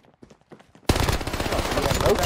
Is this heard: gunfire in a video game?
yes